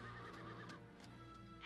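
A horse whinnies faintly in a movie scene, a quiet, high, wavering neigh over a low steady background hum.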